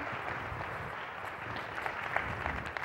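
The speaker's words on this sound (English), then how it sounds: "Please give them all a round of applause again." A morning conference audience claps steadily and evenly, a dense wash of applause held at moderate loudness throughout, with no voices over it.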